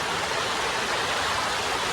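Waterfall rushing in the hills near Kotagiri, a steady, loud broadband roar of falling water close by, continuous with no breaks and no voices.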